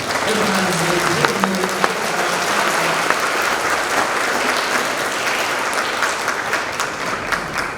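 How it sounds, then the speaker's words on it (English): A crowd applauds loudly and steadily, dense clapping filling the whole stretch with a few cheers mixed in. "So give them a big round of applause."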